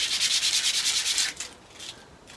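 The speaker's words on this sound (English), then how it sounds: "the best thing to do is just to give it a bit of a sand" Sandpaper rubbing a wooden slingshot frame in quick, even back-and-forth strokes, a close, steady scratchy hiss that slows and fades near the end.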